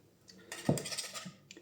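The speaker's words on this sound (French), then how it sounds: "Et je mets la gousse dans la casserole." A Madagascar vanilla pod drops into a saucepan while cannelés are being prepared, making a single soft, faint tap and brief clatter against the pan in an otherwise quiet kitchen.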